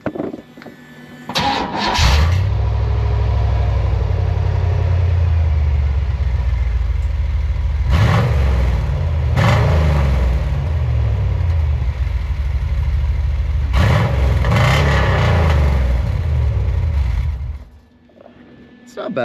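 A car with JBA mufflers starts up, then its exhaust settles into a deep idle broken by several loud revs at intervals before cutting off, close to the tailpipe.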